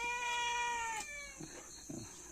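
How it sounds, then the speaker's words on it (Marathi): A cat meows close by in a coastal Konkan fishing village: first a long drawn-out meow, then two shorter calls. "मांजरा आता इथे म्याव म्याव करू"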